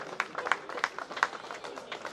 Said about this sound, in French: qu'on applaudit, s'il vous plaît